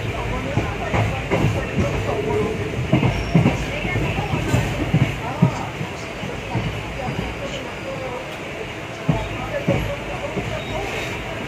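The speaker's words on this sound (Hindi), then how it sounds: "मेरी ट्रेन खुल चुकी है" A departing train rolls on steadily with dense broadband rumble and rattle throughout, irregular clattering bursts over a continuous hiss, with a murmur of people and station noise in the background.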